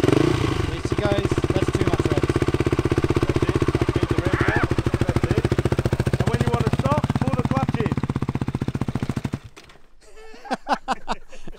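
Motorcycle engine idling and running while a learner rides at a bush camping spot in Julimar, Western Australia, a loud, rapid, even thumping pulse that holds steady, then cuts out near the end as voices begin talking.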